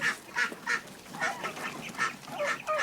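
Ducks and geese honk and quack in a string of short calls, some overlapping, fairly close with no talking.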